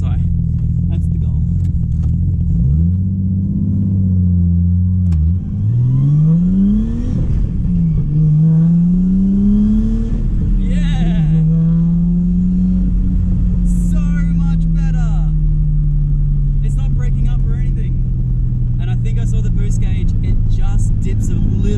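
Nissan R33 Skyline engine with a stock boost setup revving and pulling hard, loud and close, with rising and falling pitch sweeps through repeated gear changes and a steady throaty rumble underneath.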